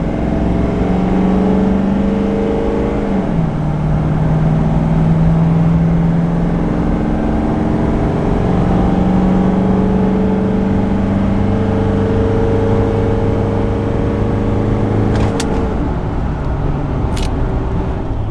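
A Chevy 2500 Duramax diesel pickup accelerates at wide open throttle from about 35 mph up a 6% grade, a loud, steady in-cab engine drone and whir rising in pitch as it shifts through gears, with no talking.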